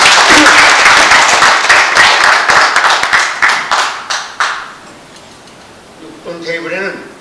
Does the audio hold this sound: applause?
yes